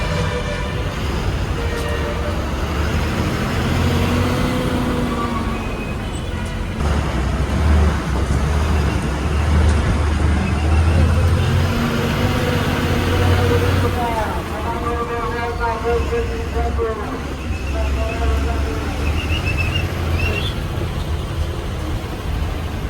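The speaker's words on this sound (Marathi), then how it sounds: "मंडळी आपली बस आता सुटता" A long-distance bus pulls away and rolls onward toward Pune, its diesel engine rumbling low and steady close by amid road noise, with people talking over the drone throughout.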